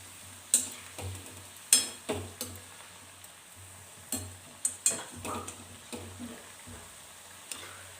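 Kachrya frying in hot oil make a soft, low sizzle heard faintly, broken by scattered utensil taps and scrapes as the pieces are turned, with no speech.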